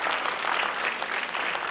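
Steady, dense hand-clapping from a crowd at a children's concert, close and lively throughout the short stretch with no voices over it.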